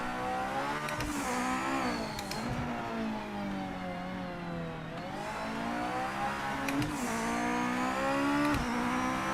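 A GT500 racing car engine in the video game Project Motor Racing whines continuously at high revs, its pitch rising and falling with gear shifts and brief drops between bursts of acceleration.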